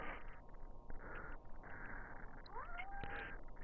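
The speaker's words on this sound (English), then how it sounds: "And that is my cat Jason." A house cat meows faintly a couple of times, rising calls heard quietly beneath steady background game noise during a Modern Warfare Remastered team deathmatch session.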